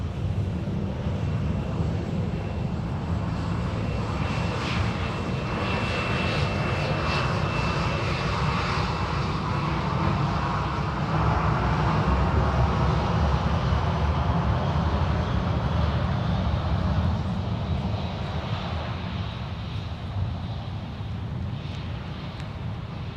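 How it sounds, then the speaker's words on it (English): Boeing 737 converted cargo freighter taxiing at Minneapolis–St. Paul airport, a loud continuous jet engine roar and whine with steady broadband rumble, heard from fairly close outdoors with some wind. "This is our prime air flight from Cincinnati with a 737 Boeing converted freighter."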